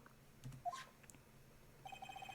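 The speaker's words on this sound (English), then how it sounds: "what is with this stupid sounding ringtone?" A phone ringtone from the video game Phoenix Wright: Ace Attorney sounds faintly near the end as a quick run of repeated electronic beeps, after a few scattered soft noises.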